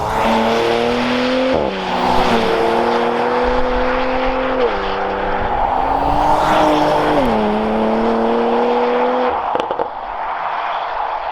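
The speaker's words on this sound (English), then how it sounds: "doesn't this Porsche sound amazing?" A Porsche Macan GTS engine revs up through several gears with a throaty exhaust note, shifting pitch at each gear change, loud and close.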